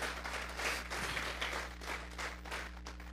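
A church congregation claps together in sustained applause offered to God, a steady wash of many hands over a low constant hum, with no voice on top.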